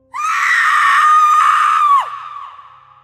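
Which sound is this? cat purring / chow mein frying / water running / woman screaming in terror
woman screaming in terror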